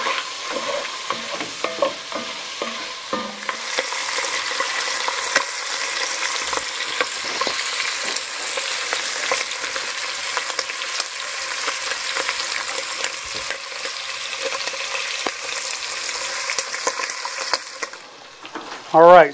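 Andouille sausage frying and sizzling in a pot, steadily crackling for the length of it while a spoon stirs it with scraping, clattering touches near the start, and a brief knock closes it out.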